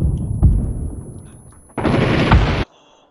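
A grenade goes off in a shooter game, a sharp thump early, then a loud sustained burst of gunfire and blast noise lasting about a second before cutting off abruptly.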